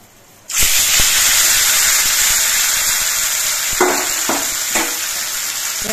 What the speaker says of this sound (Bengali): শুকনো লঙ্কা আর কালো জিরেটা ভাজা হয়ে যাওয়ার পর আমি যে কলার খোসাগুলো বেটে রেখেছিলাম সেই কলার খোসা বাটাটা দিয়ে দিচ্ছি